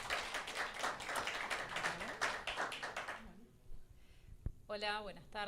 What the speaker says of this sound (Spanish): Un fuerte aplauso para ellas